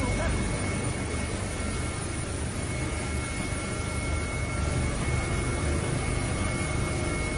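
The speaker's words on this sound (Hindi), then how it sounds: "हेलीकॉप्टर की मदद से लोगों को यहां से रेस्क्यू किया जा रहा है।" A rescue helicopter flying over a flood zone in Nepal gives off a loud, steady rotor and engine roar that fills the whole scene without letup, with a voice talking underneath.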